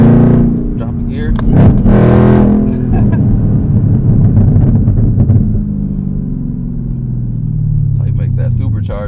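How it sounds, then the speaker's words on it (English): A supercharged car engine revs hard through a rev-matched downshift, its loud droning roar swelling and falling with a rising whine, close and continuous for the whole stretch. "That supercharger whine when you get up in RPM."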